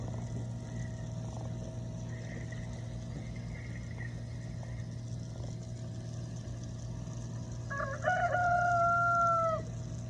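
A rooster crows once near the end, clear but somewhat distant, over a steady low mechanical hum.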